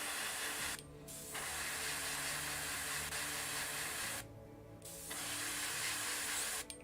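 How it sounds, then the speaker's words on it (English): An airbrush hisses steadily as it sprays paint onto a Khorne daemon miniature, a close continuous spray broken by two short pauses where the trigger is released. "a bit of a spray there"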